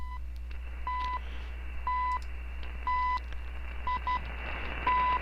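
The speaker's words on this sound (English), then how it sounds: "Let's do the time station out of Canada," The CHU Canadian time station comes through on a shortwave radio as a series of steady one-second tone pips over constant hiss and hum, with a longer tone near the end.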